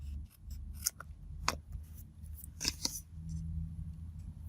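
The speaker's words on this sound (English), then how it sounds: "And now we will trim that away." Scissors trim glued paper in a journal, several crisp, close snips spaced irregularly over a low background hum.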